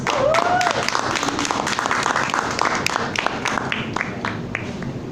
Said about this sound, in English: Let's all give him a round of applause, Ivan Reyes.